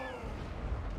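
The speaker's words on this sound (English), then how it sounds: "And our cannons are doing a beautiful job." Cannon fire in the Total War: Warhammer 2 battle game gives a dense, continuous low rumble of booms. The blasts sound heavy and fairly loud, with faint traces of a voice over them.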